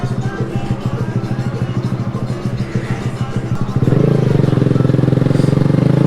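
A 2020 Honda Grom motorcycle rides along on an early morning run, its small engine chugging in steady pulses close by, then rising into a louder, smoother drone as it picks up speed.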